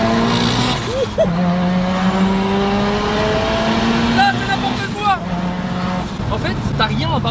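A 740 hp turbocharged Mazda RX7 accelerates hard, its engine note rising through gears with sharp shifts and turbo surges, loud and close, while people talk over it.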